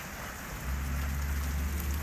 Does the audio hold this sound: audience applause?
no